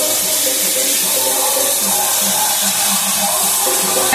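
Water pours into a cooking pot of sweetened monkey jackfruit and tomato chutney, making a loud, continuous rushing hiss that holds steady throughout.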